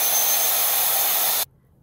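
A hair dryer blows as a loud, steady whoosh for about a second and a half, then cuts off abruptly to near silence.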